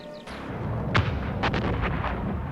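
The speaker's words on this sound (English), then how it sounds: "The battle began with the German mortar barrage." A German mortar barrage rains on Canadian positions in battle: repeated heavy blasts and booming impacts, several sharp bursts over a rolling, continuous roar of artillery fire, loud and without speech.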